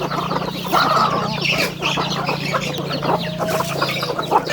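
Chickens fight, squawking and clucking loudly in an agitated scuffle at a rural home in Thailand, with harsh overlapping calls close by and other birds chirping in the background.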